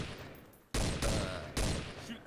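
Gunfire in the Garry's Mod game as a player shoots at a brick: three loud, broadband bursts of shots arrive in quick succession after a quieter start, each sharp onset followed by a rattling decay.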